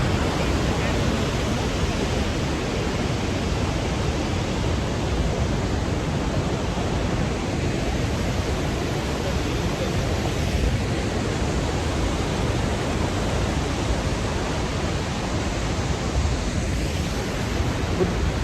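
Rhine Falls waterfall in Switzerland, a broad continuous roar of rushing water, steady and loud with a wind-buffeted hiss, no clear talk over it.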